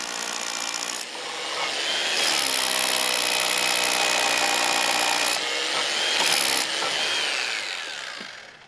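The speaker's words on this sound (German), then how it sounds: "Das tiefe Bohren der vielen Löcher in den Kniestock ist Knochenarbeit." Power drill boring deep holes into timber for a roof truss knee wall, a loud sustained whir that rises and falls as the bit bites, with brief pauses.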